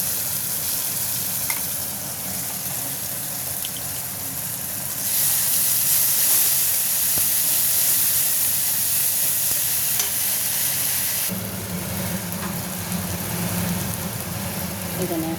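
Spices fry in hot oil in a wok with tomato, ginger, cumin, coriander, garlic and onion, giving a loud continuous sizzle and hiss that flares brighter midway, then settles into steady crackling.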